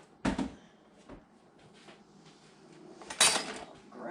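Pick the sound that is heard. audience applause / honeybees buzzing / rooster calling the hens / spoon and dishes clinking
spoon and dishes clinking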